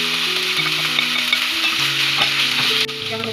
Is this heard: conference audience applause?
no